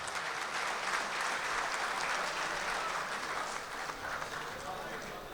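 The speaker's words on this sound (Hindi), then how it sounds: "तालियों के दरमियान जनाब नेदा फाजली।" A mushaira audience of Urdu poetry listeners in Doha, Qatar, applauds a poet's introduction with continuous, even clapping held at a moderate, distant level, while voices murmur beneath it.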